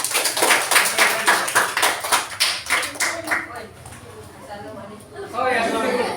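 Audience applause at a talk or presentation: a run of rhythmic group clapping that fades out and gives way to chatter and voices, with a brief renewed burst of noise at the close.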